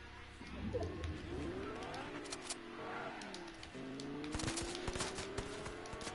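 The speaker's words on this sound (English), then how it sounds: "Oh, someone's shooting." Gunfire in a video game rattles in scattered bursts of sharp shots at moderate distance, layered under music or tonal game sounds and faint background voices.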